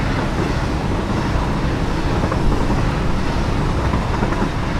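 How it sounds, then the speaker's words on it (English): An Overground train in the video game Satisfactory runs along, giving a loud, continuous rumbling roar with a steady rolling wash of noise and no pauses. "this is Banjo Central Station where we got on this Overground train."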